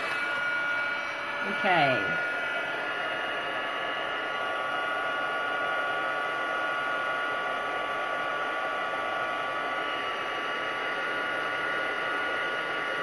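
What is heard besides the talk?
heat gun heating embossing powder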